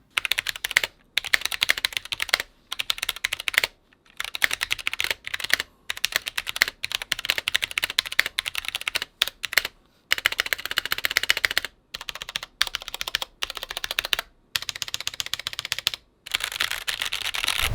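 Fingers type on a stock Qeeke CR840 mechanical keyboard fitted with tactile Huano brown switches, producing dense, close clattering keystrokes in steady bursts broken by brief pauses.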